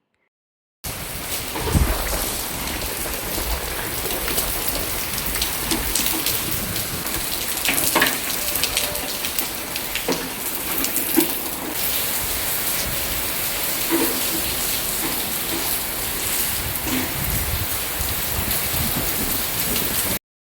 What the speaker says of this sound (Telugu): చూసారు కదండి ఎట్లా పడుతుందో వర్షము